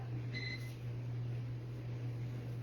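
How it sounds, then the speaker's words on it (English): Two short, high electronic beeps sound faintly early on over a steady appliance hum that continues to the end. "Do you guys hear that beeping sound? That's the microwave."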